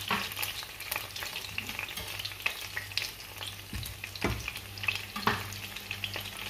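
Onions sizzling with ground beef in a pan, a steady close crackle and fry with occasional stirring scrapes and clatters, no voices.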